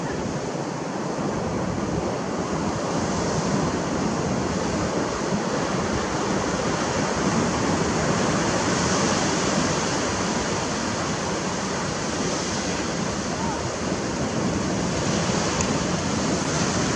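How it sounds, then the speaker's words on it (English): Steady surf washing onto the shore at Trigg Beach in Western Australia, a continuous broadband roar of breaking waves with some wind, loud and unbroken throughout with no talk. "we're at Trigg Beach in Western Australia"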